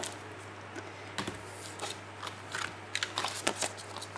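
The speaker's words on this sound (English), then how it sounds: "to trim, I use a craft knife" A craft knife trims paper sheets apart, giving soft, close scratchy slicing strokes and light paper rustles in short irregular bursts over a low steady hum.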